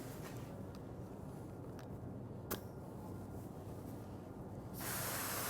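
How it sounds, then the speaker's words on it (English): Steady, soft air hiss across the air cap of a Fusion MP spray gun, continuous and close, brightening and growing slightly louder near the end, with no talk. "That's the air blowing across the cap to keep it clean."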